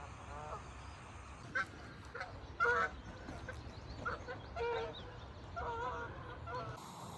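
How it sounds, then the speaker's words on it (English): Geese honk repeatedly in the morning outdoors on a remote Scottish island near a castle ruin, irregular calls of varying loudness over a low wind hum, with swans nearby and some faint talk between honks. "Oh, the geese are extremely noisy this morning."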